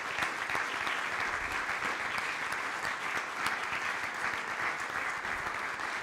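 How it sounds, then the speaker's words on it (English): Sustained applause from a large audience at a political rally for European elections in Italy, a dense, even clapping wash lasting several seconds without pause. "A round of applause for Matteo Salvini, because he's a great, great Vice Prime Minister here in Italy."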